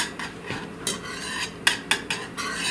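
Shortcut potato soup ingredients, including dehydrated minced onion, being stirred in a bowl with a utensil, giving scraping, clinking strokes in an uneven rhythm, close and fairly quiet with no voices.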